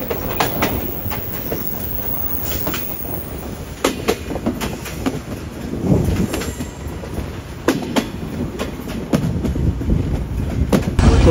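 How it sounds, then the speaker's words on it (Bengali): The Chitra Express passenger train runs into a curve at speed. Loud, steady rolling carries a rhythmic clickety-clack of wheels over rail joints, with faint wheel squeal and no voices. "এই মুহূর্তে আমাদের ট্রেন ছোটখাটো একটা দারুণ কার্ভে প্রবেশ করতে যাচ্ছে"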